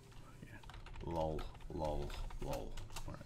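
Keyboard typing, a quick patter of key clicks running under a voice as he speaks a few words.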